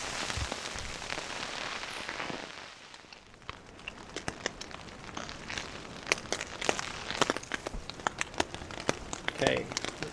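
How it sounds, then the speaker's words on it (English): Rain drums onto a tent during a night of camping on an alpine hiking trail, a dense patter of close, sharp drops that eases for a moment and then returns with heavier splats, with no voices. "it's pissing down with rain at the moment"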